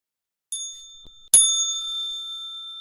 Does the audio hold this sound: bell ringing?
yes